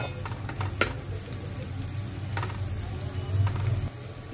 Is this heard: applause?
no